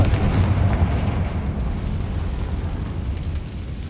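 A Confringo fire spell bursts in Hogwarts Legacy, a heavy, rumbling explosion that booms at the start and then rolls on as a loud, dense low roar fading only slightly.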